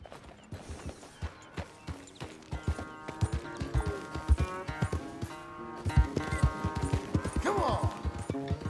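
Horse hooves clip-clopping around a corral in the video game Red Dead Redemption 2, a steady loud run of hoof beats with mechanical creaks and a brief whinny near the end.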